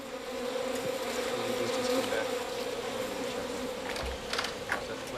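Honeybees buzz steadily in a hive, a dense, continuous drone close and fairly loud, with a few brief sharper sounds near the end and no speech.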